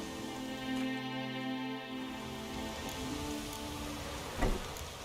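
Steady rain pouring in The Witcher 3 on the islands of Skellige, a dense continuous hiss of drops on surfaces with one brief louder splash near the end, faint tonal game music underneath.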